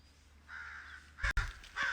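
A crow gives two or three harsh caws outdoors, fairly close and loud, with a faint hum of background ambience before and between the calls.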